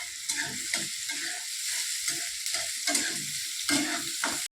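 Onions for chicken curry frying in a pan give a steady, close sizzle, with repeated scraping and stirring strokes layered over it until an abrupt stop.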